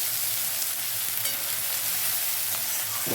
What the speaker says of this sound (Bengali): আমরা এখানে পেঁয়াজটাকে ভালোভাবে ভেজে নেব